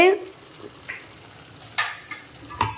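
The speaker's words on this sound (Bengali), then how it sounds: "মশলাটা কষতে দিয়েছি মাটন কষা হবে" Spice paste for mutton curry fries in a pan in a home kitchen, giving a low, soft sizzle broken by a few brief stirring scrapes and clinks. It is faint and mostly steady, with no talk.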